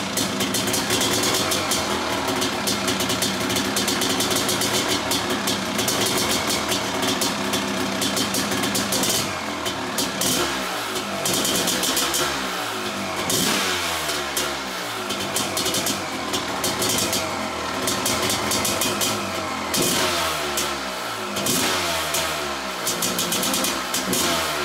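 A 500 CR motocross bike engine is started without the decompressor and runs, a loud, continuous raw two-stroke roar with repeated throttle blips and surges, close up, and no one speaking.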